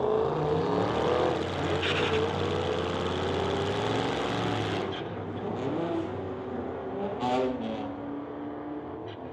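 A Mustang and a Challenger run side by side in a street-legal drag race, their loud engines roaring with rising revs, then easing off into a fainter, receding rumble.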